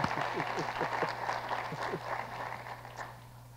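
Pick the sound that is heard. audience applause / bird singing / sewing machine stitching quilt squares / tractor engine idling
audience applause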